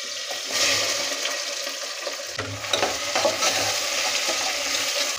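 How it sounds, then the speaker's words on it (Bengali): Onion frying in hot refined oil with two bay leaves inside a pressure cooker, a steady close sizzle with scraping stir noises throughout and no talking. "পেঁয়াজটা ভালো করে ভুনে নেব লাল করে।"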